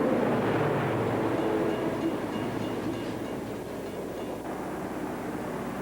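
CSX diesel locomotives, among them a C30-7, B23-7, SD40-2, U30B and B36-7, pass by with a heavy low engine rumble and rolling wheel noise, loud at first and slowly easing as the train moves away.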